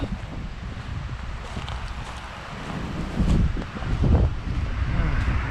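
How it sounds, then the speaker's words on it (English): Wind gusts rumble and buffet the microphone at dusk near kofun burial mounds by Narita Airport, Japan, swelling louder toward the end, with a faint outdoor hiss behind it. "The sun's gone, it's getting windy, cooling down a bit."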